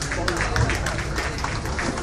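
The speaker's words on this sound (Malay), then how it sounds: "Satu tepukan." An audience claps as a football striker is introduced, a dense, continuous burst of applause from a crowd, fairly loud and steady throughout, with voices mixed in.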